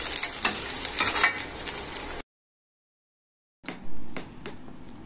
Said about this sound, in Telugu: కొద్దిగా ఇవన్నీ కలిపి ఒక్కసారి కొంచెం ఫ్రై అవుద్దామండి